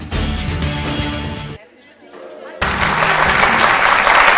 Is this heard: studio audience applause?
yes